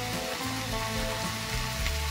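Ground spice paste frying in oil in a pan for Bengali rohu fish and potato curry, a steady dense sizzle with a low hum running throughout, no voices.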